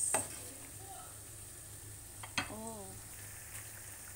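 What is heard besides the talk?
stirring chicken liver adobo frying in a pan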